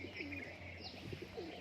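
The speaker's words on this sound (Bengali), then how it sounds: "সেই পায়রাটা এখন উঠছে, খেলছে।" Standing-performer pigeons coo softly several times in quick succession, with a faint chirp or two against a quiet background.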